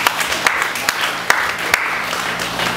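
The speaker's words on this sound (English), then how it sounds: "Let's give God a clap of praise." A church congregation claps in praise, a moderate irregular patter of many hands with a few sharper individual claps standing out.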